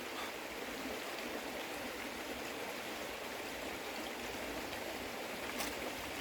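A river flows steadily outdoors, a continuous even rush of water with no break or change, heard alone and fairly faint.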